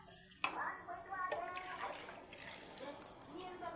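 Water poured into ground masala for a Tamil fish curry, a short splashing trickle followed by faint liquid sloshing, close and moderately loud, with a voice speaking over it.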